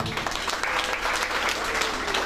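Guests at a civil wedding ceremony applaud in a brief, steady burst of many hands clapping, moderately loud and continuous in the room.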